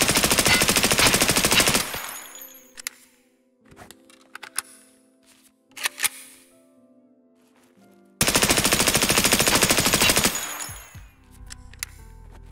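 Automatic rifle fire in Escape From Tarkov: two long, loud, continuous bursts of rapid shots, separated by a quieter stretch of scattered clicks and handling noises.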